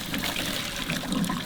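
Water runs steadily into a kitchen sink as cooked ramen noodles for a stir fry are drained, a continuous close splashing trickle with no talking.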